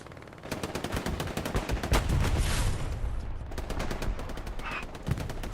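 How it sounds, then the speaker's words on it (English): Artillery rounds strike a building roof and nearby trees in the Hell Let Loose war game on the Foy map, rapid gunfire crackles throughout, and a heavy rumbling impact rises in the middle of the burst. "One shot goes, two shots go into the roof of the building and into the surrounding trees"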